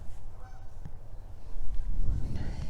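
A pair of geese honk in a few short calls, fairly close, with a louder burst of honking toward the end over low background rumble.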